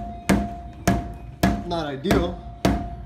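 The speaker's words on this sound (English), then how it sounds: "So, you know, the hammer's working." A hammer strikes metal five times at roughly even half-second intervals, sharp and close, knocking a pulley off the pump shaft of an Ingersoll Rand T30 air compressor during a rebuild; someone speaks briefly between blows.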